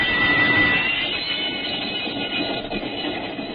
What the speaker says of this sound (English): The train left Chicago and headed north and then slightly west over Illinois and Wisconsin.